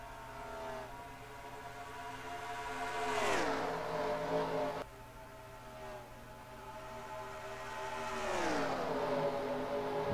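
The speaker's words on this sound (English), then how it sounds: "The 2 Kyle Busch trucks pulling away." Racing trucks in a truck championship race at Atlanta speed past, their engines rising in pitch as they accelerate and pull away in two distinct sweeping pass-bys, fairly faint and with no talking.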